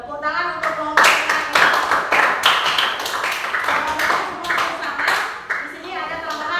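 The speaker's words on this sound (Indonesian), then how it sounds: "Tepuk tangan untuk kelompok yang" A classroom group claps for a group of children, a loud burst of hand claps with sharp individual strikes that carries on for several seconds, with children's voices mixed in.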